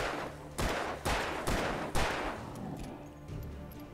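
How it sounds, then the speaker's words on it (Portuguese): Loud, close gunfire from Alan Wake Remastered, a rapid run of four or five heavy shots in steady succession, each with a sharp crack and booming tail, and no talk over it. "Beleza, agora é só atirar muito."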